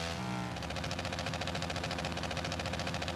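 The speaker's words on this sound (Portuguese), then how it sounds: "Olha o corte de giro monstro, velho, tem um cortão de giro bem grosso, né?" A Triumph Tiger 800 three-cylinder motorcycle engine held at high revs against the rev limiter, giving a loud, steady, rapidly pulsing buzz that continues without a break.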